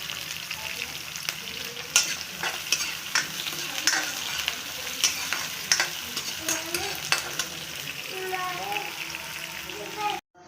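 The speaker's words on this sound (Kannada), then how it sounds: "ಈರುಳ್ಳಿ, ಕರಿಬೇವು, ಬೆಳ್ಳುಳ್ಳಿ ಈ ಮೂರನ್ನು ಹಾಕಿ ಚೆನ್ನಾಗಿ ಬಾಡಿಸಬೇಕು" Onion, curry leaves and garlic sizzling in a pan with mustard seeds for a raw banana saaru, a steady close crackle broken by regular stirring scrapes, with a voice speaking at times over it.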